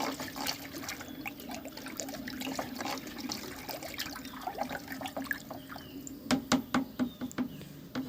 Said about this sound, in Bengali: খুলে নিয়ে একটি লাঠির সাহায্যে ভালো করে এটিকে নাড়িয়ে ঘুরিয়ে নেব।